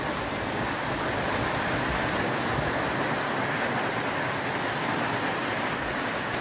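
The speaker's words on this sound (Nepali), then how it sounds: "पानी ठुलो आइरहेको छ" Heavy rain pours steadily over rice paddy fields, a dense, even hiss of falling water at a constant level with no other sounds.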